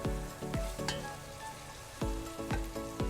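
Onions and garlic frying in melted butter in a soup pot, a soft steady sizzle broken by several sharp utensil knocks and scrapes against the pan, close and fairly quiet.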